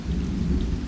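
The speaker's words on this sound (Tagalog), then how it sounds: "Ma, umuulan." Steady rain falls in an animated home scene while low thunder rumbles continuously underneath, loud and close, with no voices.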